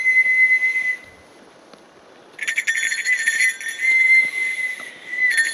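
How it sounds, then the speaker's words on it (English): A hand-held whistle blows sustained shrill tones on a forest hike with a German Shepherd, a long steady note followed after a short pause by a louder run of held and wavering notes, close and prominent over quiet background. "Ooh, he's got a whistle."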